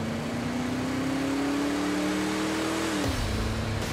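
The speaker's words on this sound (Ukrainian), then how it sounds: "Але головна фішка Holden пікапа – можливість змінювати звук вихлопу." A Holden pickup's exhaust holds a steady, rising revving note, then drops abruptly into a deeper, throatier rumble near the end, loud and close with no voices.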